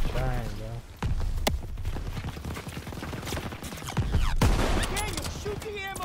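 Bursts of rapid gunfire fill a Call of Duty WWII battle, with sharp shots and clattering volleys crowding together while a player's voice talks over the fighting.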